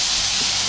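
Pork fat sizzling in a hot pan, a steady bright hiss that holds evenly through the short moment.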